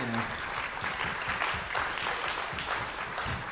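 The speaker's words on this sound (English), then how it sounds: "big round of applause to everyone that was working here tonight" Applause from an audience at a live music and art venue, dense and sustained throughout, loud and close with scattered cheers mixed in.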